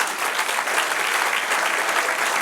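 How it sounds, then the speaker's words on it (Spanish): A church congregation claps steadily and densely for a couple of seconds during a sermon, an even wash of hand claps filling the room with no voices over it. "Dale otro aplauso al Señor."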